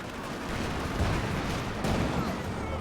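Gunfire and artillery fire in the Company of Heroes 2 video game form a steady, dense wash of distant shots and rumbling blasts, with a continuous noisy texture throughout.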